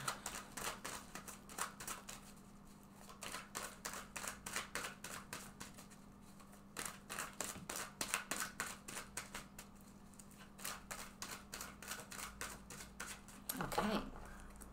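Rapid, crisp riffling bursts of shuffled tarot cards repeat close up for several seconds, pausing briefly between runs, with a soft thump near the end.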